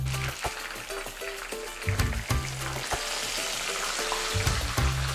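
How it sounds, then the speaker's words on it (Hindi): A chicken piece deep-frying in hot oil for a spicy zinger burger, giving a steady dense sizzle with crackling bursts and a few lower bumps of movement in the pan, with no talking. "चिकन का जुन से एक पीस तलेंगे सेंटर में रख के आराम से, जो कि फ्राई होगा और एक जैसी हीटिंग लेगा"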